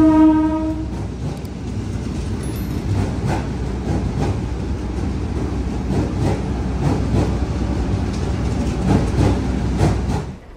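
Manahan passenger train hauled by locomotive CC 2040305, heard from inside an executive coach: a loud horn blast at the start over a steady rumble and rhythmic clickety-clack of wheels on rails throughout.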